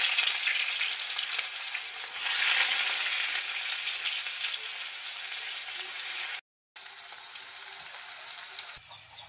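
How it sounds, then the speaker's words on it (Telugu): Onions sizzle and fry in hot oil in a pan for a chicken fry, a steady bright crackling hiss close up that swells and eases, with a brief cut near the end. "ఆనియన్స్ వేసుకున్నామండి."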